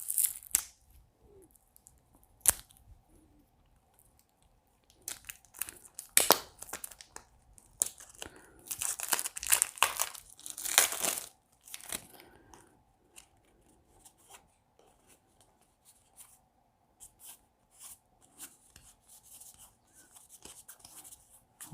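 Card set packaging is torn and unwrapped nearby, with scattered crinkles, rips and rustling bursts that come and go over several seconds.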